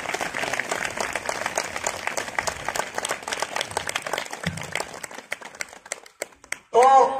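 Audience at a talk on mind management clapping their hands vigorously as an exercise, dense steady applause that thins into scattered claps near the end before a voice speaks.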